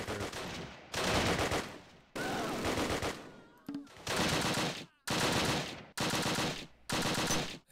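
A Panzerfaust fires in the WWII strategy game Close Combat, set at Arnhem, amid a fierce battle: loud, dense bursts of gunfire and blasts come in a string of separate volleys with short silent gaps between them.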